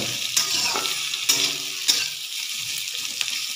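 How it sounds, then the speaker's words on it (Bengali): Chopped onions and garlic fry in a pan for a spinach sabji. A steady close sizzle runs throughout, broken by several sharp scrapes as a spoon stirs the pan. No one speaks. "এবার পেঁয়াজটাকে দিয়েও একটু নাড়াচাড়া করে আমি একটু পেঁয়াজটাকে একটু ভাজা ভাজা করে নেব।"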